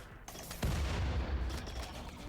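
Mortar artillery fire in the RimWorld video game: a sudden heavy boom followed by a rumbling, crackling burst that sustains for a couple of seconds, loud and close, with no talking.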